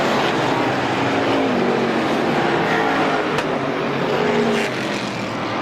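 A pack of race cars battle for position at Star Speedway, engines droning and revving together in a sustained, fairly loud roar that eases off near the end.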